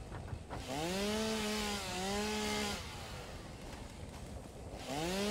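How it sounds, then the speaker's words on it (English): A chainsaw in the video game Satisfactory revs as it clears trees, two long rising-and-holding engine whines, a lull, then a third rev starting, loud and alone. "It means we're going to have to chainsaw some stuff."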